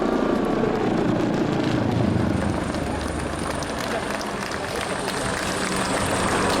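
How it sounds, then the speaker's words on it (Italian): An HH-139 helicopter at the Jesolo air show gives a steady, loud rotor and turbine drone with a rhythmic chopping beat, sustained and continuous. "Avete sentito il classico rumore del rotore dell'elicottero"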